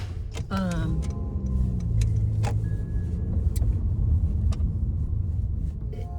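Steady low road rumble inside a moving car, a continuous engine and tyre drone throughout with a few faint clicks and ticks from the cabin, and no talking.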